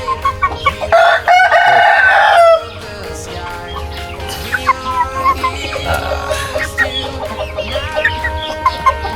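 Young chickens about three months old cluck and crow loudly and close by, with a strong burst early on followed by steady, overlapping calls.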